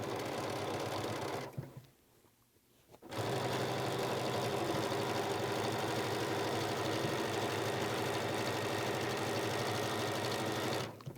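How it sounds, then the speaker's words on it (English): A sewing machine stitches quilt binding in a steady, fast mechanical whir, stopping briefly near the start and then running continuously up close. "we go back under the sewing machine"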